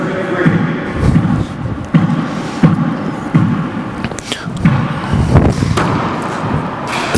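A handball-style ball is pounded into the front wall of a four-wall court during a women's match, giving repeated sharp thumps at a steady rhythm under soft crowd murmur and echoing court noise.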